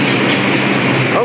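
New York subway train running through a station, loud close rumble with rhythmic rail clatter filling the whole moment.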